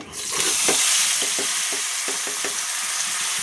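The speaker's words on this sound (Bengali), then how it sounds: "মশলাটা দিয়ে এখন সুন্দর করে আমি মশলাটা কষিয়ে নেব।" Ground paste of poppy seed, green and ripe chillies and cumin with salt and turmeric sizzles steadily in a hot pan, with a spatula scraping through it in repeated strokes, close and fairly loud with no talking.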